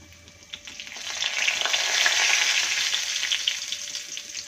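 Black cumin seeds dropped into hot oil with dried red chillies, a close, loud crackling sizzle that swells and holds steady for several seconds, alone without speech.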